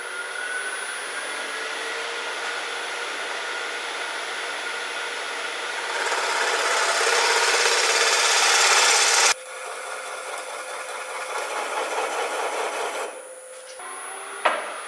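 A bowl gouge or tool cuts a tenon on a wooden bowl spinning on a lathe, giving a continuous loud rasping hiss that intensifies midway, then drops and shifts as the cut changes, with no talking.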